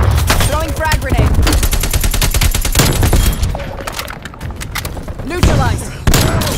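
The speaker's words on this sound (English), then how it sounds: "Throwing stun. Throwing frag grenade." Dense video game gunfight with rapid machine-gun bursts, blasts from a thrown stun grenade and a frag grenade, and loud booms over near-continuous shooting, with a radio-style voice briefly talking near the end.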